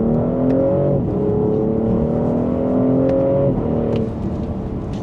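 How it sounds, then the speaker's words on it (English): A BMW X5 engine revs hard under full acceleration in second gear, its pitch climbing steadily, then drops briefly at a shift before rising again; faint exhaust crackles and pops appear near the end. "there's a few pops in that exhaust, not from the piped in speaker noise"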